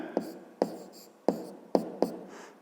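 Pen or chalk writing math notes, with five short scratchy taps and strokes spaced about half a second apart, close and clear in a quiet room.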